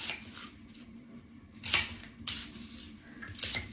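Knife chopping an onion on a cutting board in a home kitchen, a few crisp cuts and thumps spread out irregularly, fairly close, with a low background hum and no talking.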